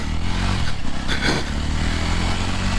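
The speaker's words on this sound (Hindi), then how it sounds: "let's start the bike now full boot up clutch दबाइए गाड़ी शुरू कर दीजिए wow first gear let's go" A Yezdi Roadster motorcycle pulls away in first gear, its engine a loud, steady close-up drone with a brief rise in revs midway.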